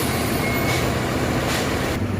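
Heavy trucks and other vehicles idle and creep along in a traffic jam on a mountain road in Uttarakhand, giving a steady engine rumble with a couple of brief hisses, like air brakes, and no voices.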